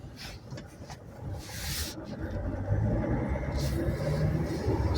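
A 2005 Dodge Sprinter camper van on a quick drive around the block, heard from inside as a steady low engine and road rumble that builds slightly as it accelerates, with faint wind noise.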